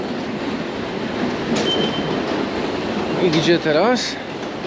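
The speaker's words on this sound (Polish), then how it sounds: "Główna stacja w Seulu." Train at Seoul's main railway station, a steady low rumble of rolling carriages with a brief squeal of wheels on rails near the end, close and fairly loud, with a voice speaking briefly over it.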